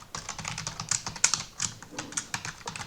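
Rapid, close clicking of a computer keyboard as Java code is typed, an even run of crisp keystrokes with no talk.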